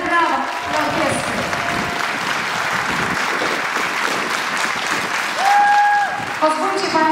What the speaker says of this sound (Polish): ogromne brawa dla orkiestry